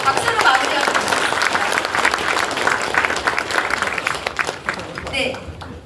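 Audience applause fills a conference hall at the launch ceremony of the Jeju Basic Society Committee, held at the Jeju Chamber of Commerce right after a group cheer. Dense, steady clapping runs throughout and fades slightly at the end.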